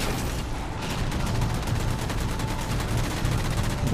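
Fuel rod gun fire from an Elite enemy in the Halo 4 video game, dense rapid bursts and booms running continuously and loudly through the whole stretch amid a busy battle soundscape.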